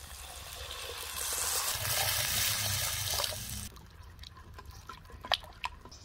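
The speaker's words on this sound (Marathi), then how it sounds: "थोडस पाणी घालायचं" Water pours into a pot of simmering okra seed curry, a steady splashing stream for a few seconds before settling into softer drips and quiet bubbling.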